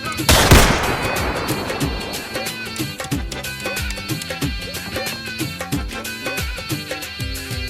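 Gunfire erupts in a rural Hindi police film scene: a loud opening blast followed by rapid, repeated shots in a steady burst, with voices briefly audible.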